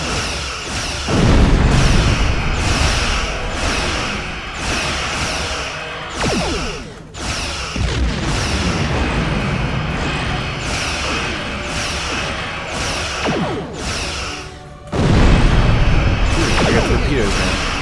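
Phaser cannons fire in the Star Trek Online space game, a dense run of loud booming energy blasts and whooshing shots that rolls on almost continuously, with heavier bursts near the start and again near the end.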